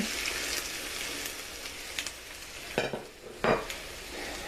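Oregano and basil being stirred into a sizzling pan with chicken and tomatoes, a steady fry hiss under a few sharper scrapes and clinks of the spoon toward the end.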